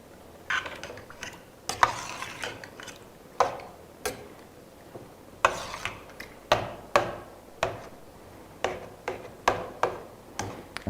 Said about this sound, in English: and stir it around.